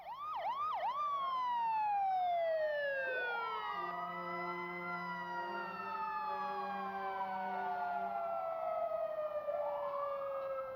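Several sirens wail and sweep together, loud and continuous, with rising and falling tones and a deep horn-like drone under them, with road rumble behind.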